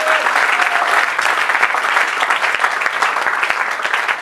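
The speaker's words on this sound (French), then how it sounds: "Et tu peux ajouter des bonnes acclamations sur ton amen." Steady applause and cheering from a church congregation during a French-language sermon on the resurrection of Jesus Christ, a dense, continuous wash of clapping that stays loud throughout.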